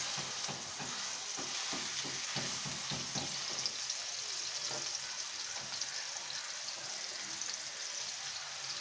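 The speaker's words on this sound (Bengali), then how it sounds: "এখন আমি আমাদের যে স্টেকটা আছে আমরা তেলে দিয়ে দেবো" A chicken steak fries in oil in a pan, giving a dense, continuous sizzle with crackling spits, heard up close, quiet overall and with no talking.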